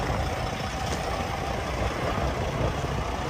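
A 2013 Peterbilt 386 truck idles steadily just after starting, its heavy diesel engine producing a loud, continuous low rumble with no breaks, heard close up and without talk.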